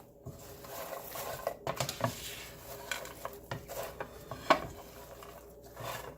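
A spoon mixes fries into a breakfast bowl, making scattered light clinks and scrapes against the dish at an irregular pace, close up and fairly quiet.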